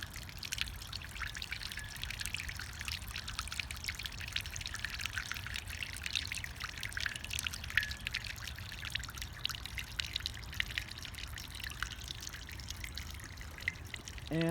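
Water trickles and pours steadily with a bright, tinkling, musical quality, a continuous close stream of small splashes and drips with no voices.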